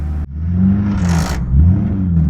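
A 1927 Stutz Blackhawk boattail speedster with a vertical eight engine revs hard close by. Its deep, throaty exhaust note swells and falls through a sustained rumble, with a brief higher whir in the middle.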